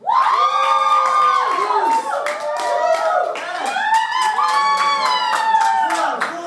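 Live comedy show crowd voting by applause, with loud cheering, whoops and shouted voices over clapping, a dense, rowdy burst that stays loud throughout.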